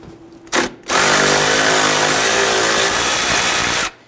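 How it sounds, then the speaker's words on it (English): A 10mm bolt on the upper left frame rail of a 2011-2023 Dodge Charger 3.6L V6 being removed with a socket and extension, a short power-tool blip followed by a steady, loud, close whirring run of about three seconds that cuts off abruptly. "now we're going to go ahead and remove our 10mm bolt up on the upper left portion of the frame rail"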